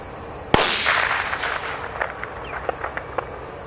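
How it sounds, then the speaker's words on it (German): A Komet Pyrocracker firecracker goes off outdoors with a single sharp, loud bang, followed by a string of smaller crackling pops and echoes fading over a few seconds. "Komet, einen Pyrocracker, Knallkörper."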